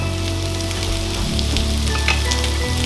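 Steady sizzling and crackling of meat reheating in a hot pan, close by, with a low hum underneath and no talking.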